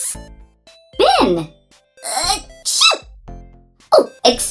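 A person sneezes loudly at close range amid playful spoken wordplay, with talk before and after the sneeze.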